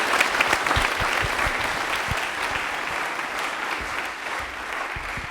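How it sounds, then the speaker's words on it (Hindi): A university hall audience at a televised quiz show gives sustained, full applause, thick and continuous at a steady moderate loudness, easing slightly near the end. "तालियां जोरदार हो जाए इनके लिए"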